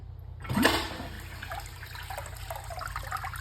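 A toilet flushes with a sudden rushing surge of water that fades into trickling and gurgling as the tank refills, heard close in a quiet room.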